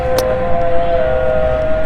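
A call to prayer in Marsa Matruh, Egypt, rings out like a siren, a steady loud sustained tone that holds evenly through the short stretch, with no talking.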